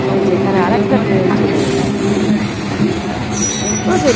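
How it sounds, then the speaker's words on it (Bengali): A train moving through Dum Dum Junction station, with a loud rumbling roll and metallic wheel and rail tones rising over busy platform noise and someone talking. "এই যে ট্রেন আসছে একটা, ছাড়ছে একটা"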